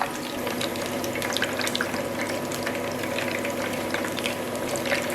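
Steady, loud sizzling and bubbling of fish nuggets frying in hot oil, with crisp pops scattered throughout and no talking.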